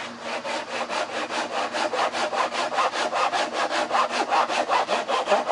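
A fine-toothed hand saw, finer than a Western saw, cuts wood for a sawhorse in steady rhythmic strokes, each back-and-forth rasp loud and close, about three strokes a second.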